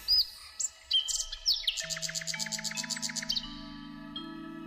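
Bird calls in an animated Hindi story about a kite leading the way to a mysterious cave: a few sharp high chirps, then a rapid trilling run over sustained tonal notes, clear and close with no talking.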